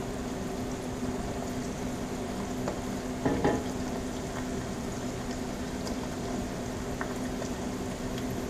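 Rice and browning onion fry steadily in a pan, giving a continuous low sizzle, with a brief louder stir or scrape partway through; no one speaks.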